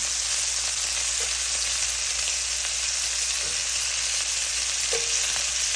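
Bite-sized steak cubes fry in a pan with a steady, dense sizzle throughout, broken by a few brief pops and faint stirring touches, close and continuous with no voices.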